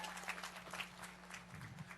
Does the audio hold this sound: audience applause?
yes